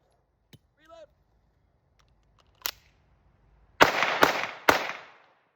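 Three sharp, loud gunshots from a Staccato CS pistol at outdoor practice, fired in quick succession with ringing decay, preceded by faint handling clicks and a brief voice.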